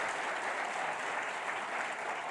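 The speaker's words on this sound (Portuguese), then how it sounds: "Dá um aplauso para o Senhor aí. Mas forte." A church congregation at a celebration service claps together in a dense, steady wash of applause that holds at an even level throughout, with no voices standing out.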